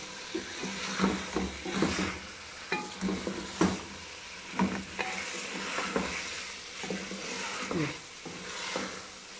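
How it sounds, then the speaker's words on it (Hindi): Sliced okra (bhindi) frying in oil in a pan while being stirred, a steady sizzle broken by repeated scraping stirs of the spatula, close and alone. "अब इसको भूनेंगे अच्छी तरह से।"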